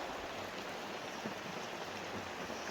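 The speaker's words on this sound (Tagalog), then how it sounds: "So maulan." Steady rain falls through a forest in the early evening, an even wash of drops pattering on leaves and ground, close and continuous with no talking.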